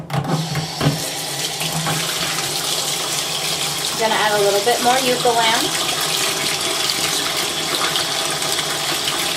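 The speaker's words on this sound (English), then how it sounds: "I'm going to fill the water back with tepid water." A tap runs tepid water into a sink for washing wool, a loud continuous rushing splash from start to end, with someone talking over it partway through.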